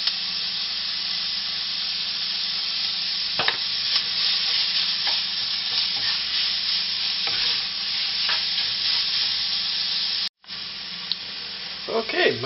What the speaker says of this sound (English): Now let's brown this up.